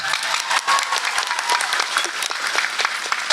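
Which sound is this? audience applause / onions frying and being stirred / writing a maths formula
audience applause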